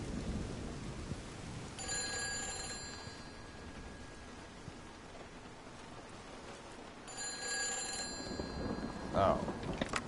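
A telephone rings twice in the video game Everybody's Gone to the Rapture, each ring a faint, brief electronic trill set in rain and rumbling thunder.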